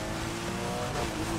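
Nissan GT-R accelerating in the racing game Need for Speed Heat during a police escape, a steady dense engine drone at constant loudness filling the whole short stretch, no talk over it.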